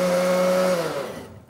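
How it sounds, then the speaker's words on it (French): A Seb multicooker running as a blender purees soup, a loud steady motor whine that holds, then drops in pitch and winds down to silence at the end. "on peut aussi l'utiliser comme mixeur pour tout ce qui va être purée"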